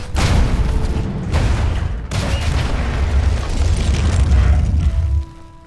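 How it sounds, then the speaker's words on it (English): In The Martian VR Experience game on PSVR, a habitat breach explosion erupts as a loud, sustained roaring boom with several heavy blasts layered over rumbling low end, cutting off abruptly before a faint electronic tone remains. "Warning. Half breach. Explosion imminent."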